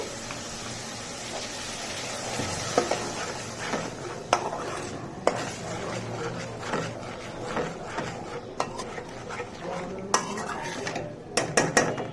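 Spice and onion paste stirred in a pan for a mustard-paste fish curry, with steady scraping and clinking of a utensil against the pan and a few sharper knocks, close and continuous.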